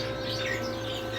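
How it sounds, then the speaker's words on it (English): Caged quail chirp in a bird-keeping setting, a busy wash of high tweets over steady low background hum, continuous and moderately near with no talking. "So good amount of quail we got going on here."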